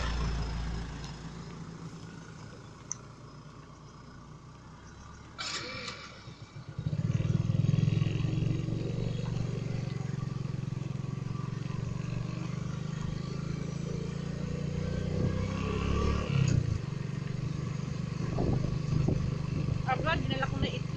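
A motorcycle ride in Barangay Labi, Bongabon, Nueva Ecija, with a steady engine drone and wind rumble that grows louder partway through and continues throughout.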